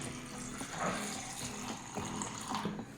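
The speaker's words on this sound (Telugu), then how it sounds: "ఇందులో నేను ఇప్పుడు పాలు పోస్తున్నాను" Thick milk being poured into fruit juice in a blender jar, a continuous close-up liquid pouring and splashing sound with no talk.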